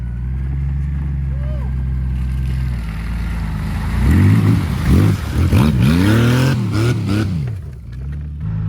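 A Honda Goldwing motorcycle towing an off-road buggy drones steadily, then accelerates in a series of rising, falling revs as it picks up speed, loud and close, with a voice talking over it.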